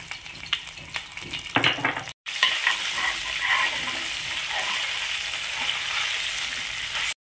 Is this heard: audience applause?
no